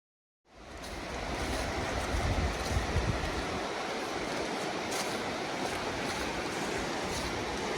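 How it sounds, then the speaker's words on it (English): A raging river at an Appalachian Trail water crossing rushes with a loud, steady broadband roar of churning water that starts abruptly and holds constant, close by and uninterrupted, with no voices. "That river is raging."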